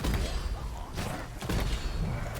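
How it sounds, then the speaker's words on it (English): Explosions from explosive spikes in Deep Rock Galactic, with heavy booming thuds at about one second and again around one and a half seconds, layered over dense, loud game noise. "That was an explosion."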